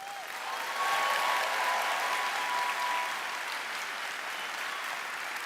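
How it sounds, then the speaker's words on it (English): A large keynote audience applauds the Figma team at a design conference, a dense, steady wash of many hands clapping that swells early and holds loud and even throughout, with no talk over it. "So please join me in giving them a round of applause."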